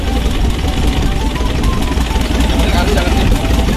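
Diesel engine of an Isuzu Panther Legend idling with a leaking exhaust while being washed down with water, a loud, steady, close rumble blended with dense hissing noise throughout.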